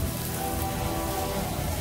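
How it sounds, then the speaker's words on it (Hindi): Heavy rain pours at night on a bike ride in Raipur, a dense, steady hiss of drops on surfaces, fairly faint and even through the short stretch. "बारिश बहुत ज़्यादा तेज़ हो रहा है"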